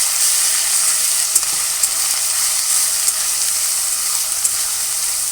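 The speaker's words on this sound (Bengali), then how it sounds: "পেঁয়াজ বাটা, আদা বাটা আর লঙ্কা বাটা। ভালো করে নেড়ে চেড়ে" Onion, ginger and chili paste fries in a pan for prawn malai curry, a loud, dense, hissing sizzle that stays constant throughout, with faint stirring taps and no voices.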